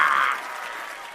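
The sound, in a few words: audience applause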